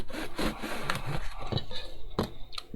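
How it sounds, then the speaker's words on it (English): Hand saw cutting through a small tube for tabletop terrain, quick rhythmic back-and-forth rasping strokes, close and clear with no talk. "I'm not crushing the tube because I'm sawing it"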